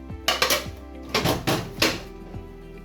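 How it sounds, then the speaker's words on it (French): A fork mixes bowl cake batter in a bowl, a few quick scraping, clinking strokes in small bursts at close range, with no talk over them. "avec une fourchette et je vais mélanger mon bowl cake."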